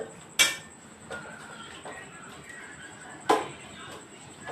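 Bitter gourd is stirred in ghee in a pan over low heat: two sharp metallic clinks of a utensil against the pan stand out, with softer scrapes between them over a faint background hiss.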